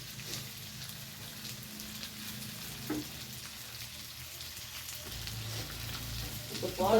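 Tilapia (jilebi fish) frying in a pan, a steady soft crackle and sizzle running throughout at moderate level, with a faint knock midway and a brief clink near the end.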